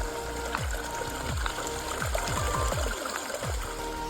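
Water rushes steadily through a 6-inch gold prospecting sluice box, a continuous close splashing flow with a few sharp thumps and knocks from gravel and tools layered over it.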